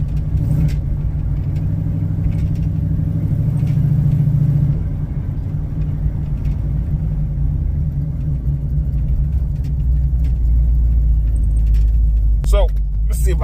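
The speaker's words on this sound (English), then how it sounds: "So let's see if I can get a flyby or drive-by or whatever they call it." Low engine rumble from a 1978 Chevrolet Malibu with a 383 stroker V8, idling steadily and fairly close throughout, with a brief sharp rattle near the end.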